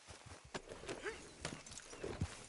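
Horse hooves clip-clop in Red Dead Redemption 2, a few uneven thuds and knocks spread over a couple of seconds under game ambience, with a brief creaky whinny-like call near the end.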